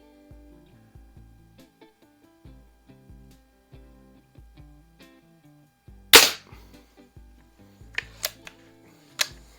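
A 1995 Daisy model 499B lever action Target Special BB gun, with faint rhythmic clicks and thumps from the lever mechanism followed by one sharp, loud shot and several lighter sharp snaps.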